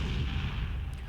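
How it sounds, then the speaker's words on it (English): Small series of explosions: a dense, loud low-frequency rumble of blasts running throughout the short clip, with no voices. "There came a small series of explosions."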